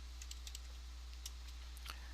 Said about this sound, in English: You can enter a quantity using the keyboard